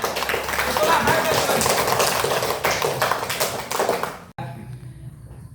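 Pupils in an Indonesian school classroom clap together in a dense, steady burst of hand claps while a teacher's voice speaks over it, ending abruptly before quieter room sound resumes.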